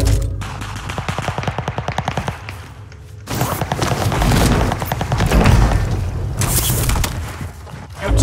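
Rapid automatic gunfire in a Warzone gulag fight, a loud rattling burst of shots followed by further heavy firing and booms, close and dense with little pause.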